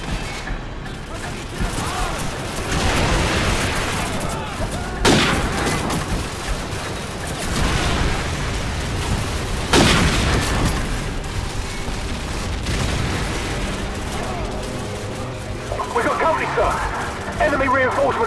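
Gunfire and explosions in Call of Duty 4: Modern Warfare's campaign mission The Sins of the Father: a dense, continuous fusillade punctuated by heavy booms, loud and close, with voices speaking over the combat.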